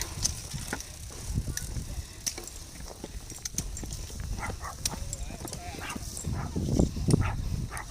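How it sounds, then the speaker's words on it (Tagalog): Several dogs barking in short bursts at mid distance on a mountain hiking trail at Tai Mo Shan, Hong Kong, mixed with wind noise and occasional voices in the background. "Ayan, dami aso."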